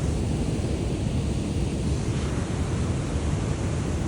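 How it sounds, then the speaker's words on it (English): Ocean surf rushes onto a shore before dawn where people fish for ulua, a steady broad roar without distinct individual breaks, loud and constant with some wind. "the waves is pumping right now"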